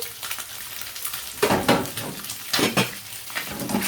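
Eggs fry in a pan with two cubes of butter for rolled eggs, making a steady close sizzle broken by a few louder crackling bursts, with no voices.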